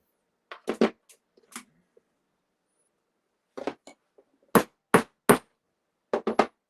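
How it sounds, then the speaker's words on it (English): A hammer strikes hot glue in short, sharp clusters of taps, two or three at a time, with quiet gaps between and the later blows ringing louder. "Maybe hammering on the hot glue will work."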